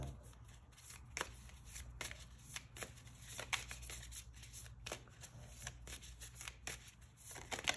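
Guardian Angel oracle cards are shuffled by hand in a quiet room, producing repeated soft riffling and flicking bursts in an uneven rhythm, close and alone.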